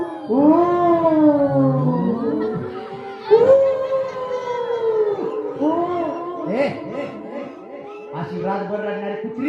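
A performer at a folk bharud stage show imitates dogs howling through the night, voicing long wavering wails that rise and fall in several drawn-out cries, loud and close.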